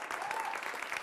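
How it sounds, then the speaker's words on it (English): Studio audience applause at the opening of a first-episode studio show, a steady wash of clapping filling the whole short moment at moderate loudness with no pauses. "round of applause, anyone?"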